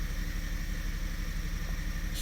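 A 2017 Kia Sorento 2.0 turbo engine runs with injector 2 disabled, giving a steady, rough idle drone with a faint rhythmic unevenness and broadband hiss, heard alone without any voices.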